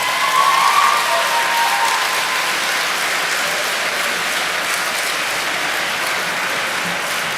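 An audience at an outdoor vegan camp-out speech applauds with sustained, dense clapping that stays loud and even for several seconds, with a brief faint cheer near the start.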